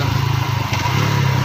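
A motorcycle engine runs steadily near a bridge over the Ravi river, a loud, close, low thrumming idle with a rapid even pulse and no voices over it.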